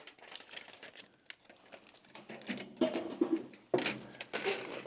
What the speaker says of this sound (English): And we are taping all the seams, even the ones I put together right here.